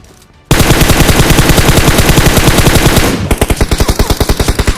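Sustained automatic gunfire in a video game shootout, loud and dense, shifting after a few seconds into a slower, evenly spaced burst of shots.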